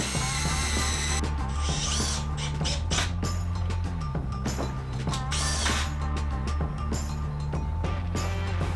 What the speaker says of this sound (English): I could just pre-drill and screw this right in.